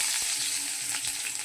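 Chopped green chili and whole cumin sizzling in hot oil in a pan, a steady close, loud frying hiss with a few soft crackles throughout.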